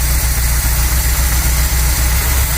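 A VW Polo 86c engine idles lumpily with the choke stuck, a loud close low rumble with an uneven pulsing beat and slight knocking.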